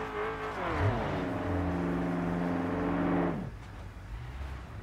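Damaged car in the BeamNG Drive game with its engine still running, a steady droning hum with rising harmonics as it revs up, held loud for about three seconds before cutting off to a quieter idle.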